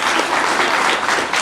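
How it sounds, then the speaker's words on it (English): Audience applauding a ninth-grade student in a school classroom session, a steady dense wash of clapping filling the whole moment with no break. "Give him a big clap"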